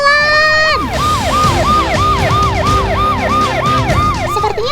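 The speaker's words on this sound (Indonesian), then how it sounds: "Minggir! Ada mobil ambulans mau lewat nih." An ambulance siren wails loud and close, sweeping up and down in a fast, repeating cycle with traffic rumbling underneath.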